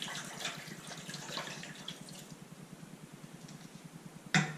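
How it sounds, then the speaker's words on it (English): The rest of a bottle of apple cider vinegar is poured into a jerky marinade, giving a quiet, rhythmic glugging splash that fades toward the end and is followed by a brief knock. "I'm going to dump in this rest of this bottle of apple cider vinegar."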